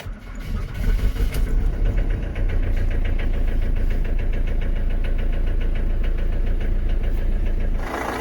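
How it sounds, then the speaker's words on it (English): A Rover 75 car engine cranks and fires in cold weather, then settles into a rough, loud, steady idle with a regular knocking pulse running until the end. "It's going to sound a bit horrible when it starts because it's so cold."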